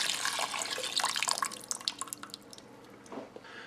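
Canned beef broth poured from the can into an Instant Pot, a splashing, gurgling pour that is loud at first and then tapers off into a few drips.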